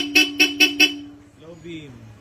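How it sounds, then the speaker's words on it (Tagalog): Four short, loud honks in quick even succession from a Bosch Europa horn fitted on a Honda ADV160 scooter, followed by a quieter stretch with a voice speaking. "yung Bosch Europa horn"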